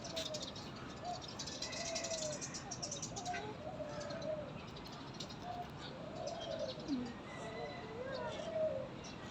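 Outdoors at a zoo, birds chirp and tweet over steady background noise, with a few soft pigeon coos woven through, moderately faint.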